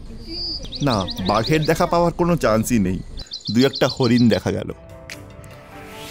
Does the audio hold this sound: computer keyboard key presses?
no